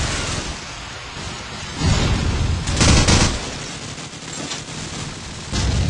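A grenade explodes in Call of Duty 4 with two thudding booms a second apart. Each blast is broad and rumbling and carries over a steady low-level noise bed.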